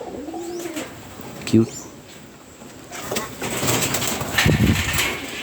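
Pigeons coo in a breeding loft full of breeder birds, mostly grizzles with a black one, giving soft repeated low coos among scattered chirps and rustling, close by, while a voice speaks briefly.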